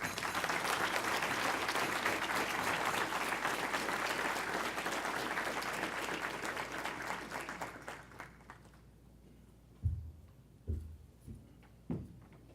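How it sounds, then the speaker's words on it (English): Audience at a Korean War veterans luncheon in Washington applauds Representative Robert Garcia, dense clapping that gradually thins out and fades, leaving a few scattered knocks and thumps in a quiet room. "please give a big round of applause for Representative Robert Garcia"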